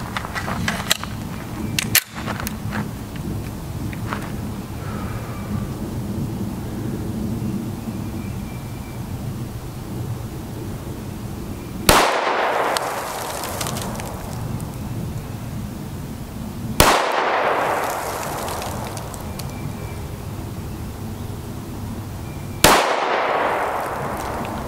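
Three loud, sharp gunshots from a 5.7x28mm pistol fitted with an EFK barrel crack out several seconds apart at an outdoor range, each followed by a short decay.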